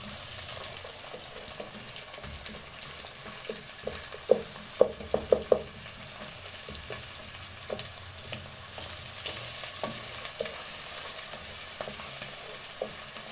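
Diced carrots and peas sizzle steadily as they are stir-fried for fried rice, a constant crackling hiss with a few sharp scraping clinks of the utensil against the pan partway through.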